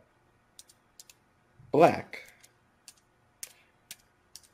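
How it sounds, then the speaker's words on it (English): A computer keyboard is typed on with one hand, producing sparse, separate key clicks at an uneven pace. A brief spoken word cuts in partway through. "I'm typing with one hand here."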